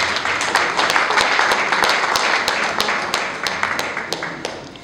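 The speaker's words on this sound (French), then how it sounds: "Nous applaudissons, s'il vous plaît." An audience at a book launch event applauds steadily, dense clapping close and moderately loud, fading slightly toward the end with a few distinct claps standing out.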